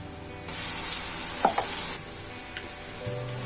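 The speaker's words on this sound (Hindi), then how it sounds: "अब इसमें मैं टमाटर और सब्ज मिर्ची डालूंगी।" Tomatoes and green chilies frying with onion and garlic in a pan, a soft steady sizzle that swells for a moment as the ingredients go in, with a few faint scraping stirs.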